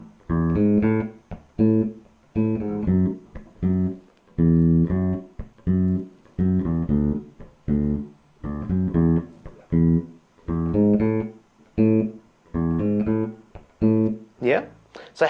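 A bass guitar plays a repeating bass line in short, evenly spaced phrases, close and clear, with brief gaps between each figure.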